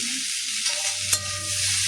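Potatoes fry in a wok for a khichuri meal, a steady broadband sizzle holding throughout with a few soft stirring knocks and scrapes.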